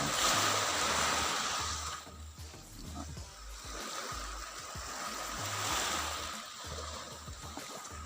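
Waves washing onto a beach shore along the seaside path near the Apo Reef Natural Park lighthouse, a broad steady surf roar with swells rising and falling, wind rumble underneath, no talking.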